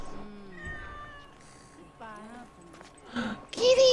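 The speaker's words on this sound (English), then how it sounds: "Kitty!" A cat meows in the Assassin's Creed Origins video game, short and fairly close, with game character speech heard around it.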